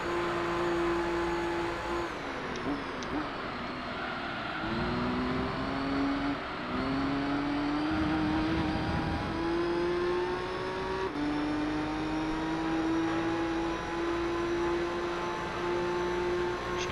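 A race car engine in Gran Turismo 3 during an endurance race at Grand Valley, droning loud and continuous, its pitch sliding down and climbing again through gear changes and revs.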